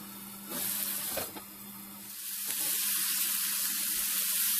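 Chicken frying in oil on high heat gives a steady close hiss and sizzle with a few sharper crackles and a low hum underneath, moderately quiet, with no talking.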